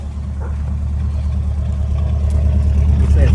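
A 1968 Chevy Longhorn pickup's 327 V8 idles steadily after being revived, a deep continuous rumble through a single exhaust with a big muffler, heard up close and holding level throughout.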